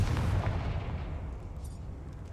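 A Confringo fire spell from Hogwarts Legacy bursts with a loud, deep rumbling boom that slowly fades away over a couple of seconds, with no voices.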